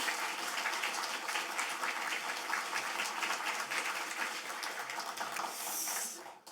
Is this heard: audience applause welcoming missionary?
yes